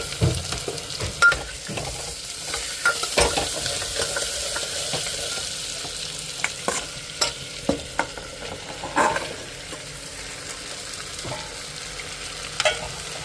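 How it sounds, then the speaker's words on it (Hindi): Chopped bottle gourd fries with chilli and onion in a pan, a continuous close sizzle broken by sharp clinks and scrapes of a stirring spoon at irregular intervals. "मिर्चा प्याज हो गया है, इसके अंदर डाल दिया है लौकी कटी हुई"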